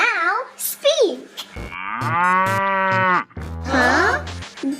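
A voice imitates a cow's moo for a cartoon robot dog, giving drawn-out, warbling moos close up and loud, broken by short pauses and a few squeaky vocal chirps.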